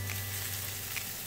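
Chorizo hash with garlic fries in a pan over high heat, giving a continuous, even sizzle with a faint low hum underneath.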